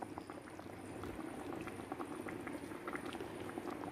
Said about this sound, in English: we're gonna turn it down, and that is gonna simmer